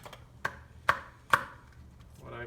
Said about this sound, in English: Try to pop these out one at a time, really.